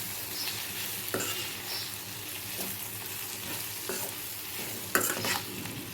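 Beetroot curry frying in a pan, a soft steady sizzle with intermittent scraping stirs and clinks, fairly quiet and close, no talking.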